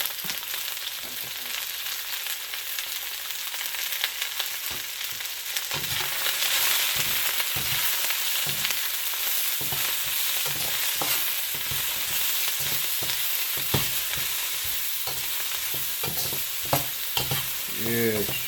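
Vegetables and mushrooms stir-fry in a hot pan for beef stir-fry, a steady loud sizzle with scraping and stirring clatter throughout and no voices.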